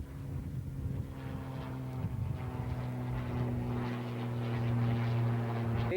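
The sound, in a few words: scale model propeller aircraft flying at an air show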